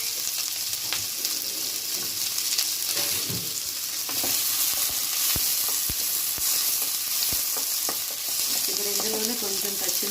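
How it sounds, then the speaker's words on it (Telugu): Cumin, mustard seeds and finely chopped onions fry in hot oil for a tomato egg curry, giving a steady sizzle with scattered seed pops and a few stirring scrapes near the end. "కొంచెం జీలకర్ర కొన్ని ఆవాలు సన్నగా తరుక్కున్న ఉల్లిపాయలు వేసుకొని కొంచెం ఫ్రై చేసుకున్నాము"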